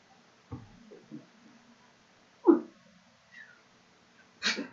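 A pet cat held in someone's arms gives a few short, soft squeaks and chirps, spaced apart and close by in a quiet room.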